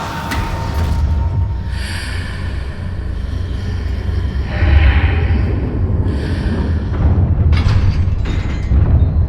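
Stone pillar dragged by an Accio spell in Hogwarts Legacy: a heavy grinding rumble with low booms and scraping surges, sustained and loud for several seconds, overlaid with airy magical whooshes.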